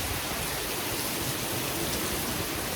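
Steady rain falls continuously, a dense even hiss of drops on surfaces with no pauses or voices, constant in loudness for the whole stretch.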